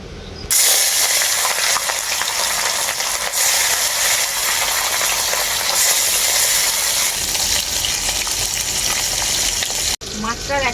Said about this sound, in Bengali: তেলটা খুব ভালোভাবে গরম হয়ে গেছে এখন মাছগুলো আমি ভেজে নেবো